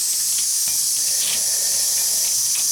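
Live steam hissing from the valve of a radio-controlled model steamboat, a loud continuous bright hiss close up with slight pulsing throughout.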